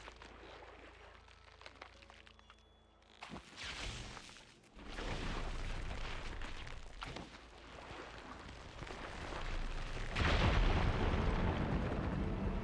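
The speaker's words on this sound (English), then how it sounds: "Igniting that fire gleam should clear" Fire gleam igniting in a video game, a building burst followed by a loud sustained explosive roar with rumbling surges that swell again toward the end, heard alone without talk.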